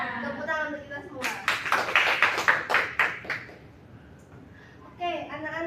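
A school class claps hands together for a couple of seconds, a burst of quick close claps between stretches of a teacher and children talking.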